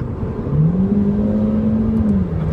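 A 2006 Audi A3 1.8 20v Tiptronic engine revving loudly and close, its tone rising and holding steady before dropping away as the gear shifts.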